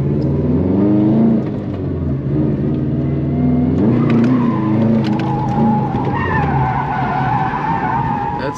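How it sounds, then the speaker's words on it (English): A Subaru WRX slides across a salt-covered parking lot, its engine droning and rising with revs while tires skid and scrub continuously, loud and close from inside the car. "I wish that there wasn't so much salt on this parking lot that's causing me to slide out."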